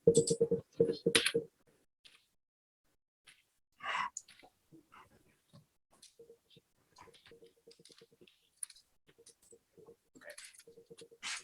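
Computer keyboard typing, light scattered key clicks and patter in short bursts, close and faint, with a few louder sounds near the start and brief pauses between.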